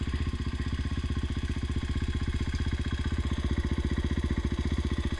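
A small motorcycle engine idles close by with a steady, fast, even putter and no other sounds.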